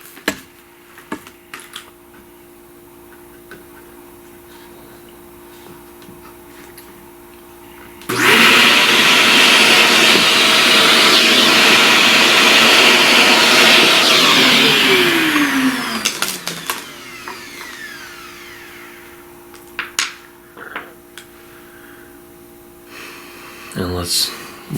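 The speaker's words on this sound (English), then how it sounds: "Let's vacuum the dust." A vacuum cleaner sucks up pastel chalk dust from a drawing, starting abruptly with a loud steady whoosh that runs several seconds, then its motor winds down and clicks off, with quieter handling noises around it.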